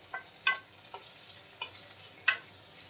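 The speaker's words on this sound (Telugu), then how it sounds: "ఇలా మంచిగా ఫ్రై చేసుకోవాలన్నమాట." Ridge gourd peel frying in a pan gives a faint low sizzle, broken by five sharp clinks and scrapes of a utensil against the pan in uneven rhythm, with no voices.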